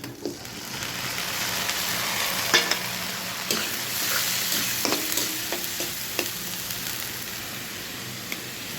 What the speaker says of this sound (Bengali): পেঁয়াজটা একটু নেড়ে চেড়ে দিলাম